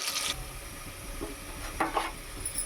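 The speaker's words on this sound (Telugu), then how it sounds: "నూనె కాగిన తర్వాత ఎర్రగడ్డలు వేసుకోవాలి" Onions frying in hot oil in a home kitchen pan, a steady low sizzle with a couple of brief stirring scrapes and clinks partway through, close and moderately quiet, no talking.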